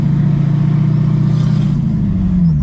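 A V8-engined Chevrolet Chevette roars loudly and steadily close by, engine pitch climbing slightly as it accelerates, with no voices over it.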